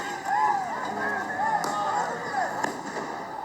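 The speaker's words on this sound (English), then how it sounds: "People were seen lighting fireworks as well." Fireworks set off by people during a late-night street sideshow near Lake Merritt in Oakland, with scattered sharp pops and whistling, wavering tones over a steady background of crowd noise and traffic.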